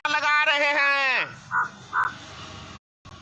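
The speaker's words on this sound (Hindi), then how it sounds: "अरे भाई कौवा भी हाँ भर रहा है" A crow caws several times in quick succession outdoors during a Hindi speech, loud harsh calls followed by a few shorter clipped caws, standing out over faint background.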